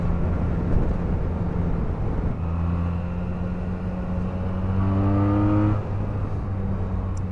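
A Benelli BN302 motorcycle engine revs up steadily, its pitch climbing through gear changes, with a brief drop between shifts and a continuous loud drone, no voices.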